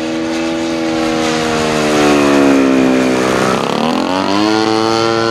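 A radio-controlled model P-51 Mustang flies past at an RC airshow, its engine a loud, sustained buzzing drone whose pitch rises and then dips sharply as the plane passes.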